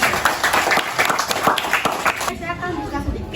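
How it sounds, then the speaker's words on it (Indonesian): Students clapping together in a classroom activity, a burst of uneven handclaps lasting a few seconds under chatter, fading and thinning toward the end. "Tepuk tangan dulu untuk kalian semuanya."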